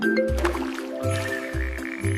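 A frog croaks in four low, regular pulses, each a short buzzy call with a brief pause between, close and clear with no talk.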